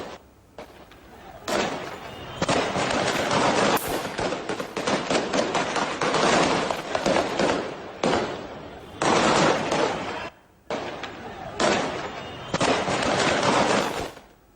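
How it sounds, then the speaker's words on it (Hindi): Bursts of gunfire from buildings at protesters crackle in rapid, dense volleys separated by short pauses, loud and harsh, with no talk over the shots. "तभी विरोध प्रदर्शन कर रहे इन लोगों पर तालिबानी लड़ाकों ने इमारतों से फायरिंग शुरू कर दी।"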